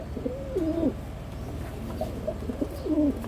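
Racing pigeons cooing close by, a few soft throaty rolling coos repeating in short phrases, with no voices.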